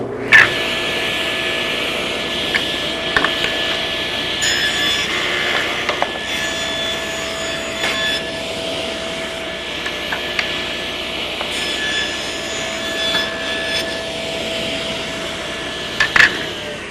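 A table saw runs continuously while making bevel cuts on picture frame moulding, a steady mechanical whine with a few brief knocks and clatters of wood being handled.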